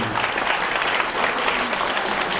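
A studio audience at a Buddhist dharma talk claps steadily and loudly. The applause is a continuous, even wash that stays strong throughout.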